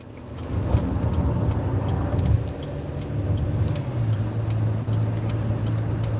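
A steady low engine drone and road rumble fill a moving car's interior, the hum shifting slightly in pitch as it drives along.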